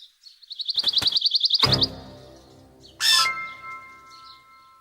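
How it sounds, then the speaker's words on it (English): A cartoon bird gives a quick run of bright, rapid chirps, then a sharp ding and a short whistling tweet, loud and close with no talking. "Bird."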